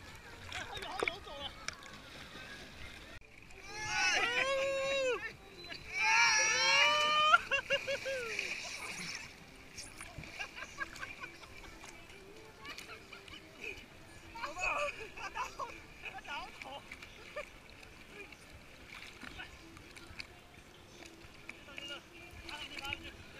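A small boat moves across water with intermittent splashing and paddle-like wash, bursts of louder water noise early on, and people talking and calling out over it.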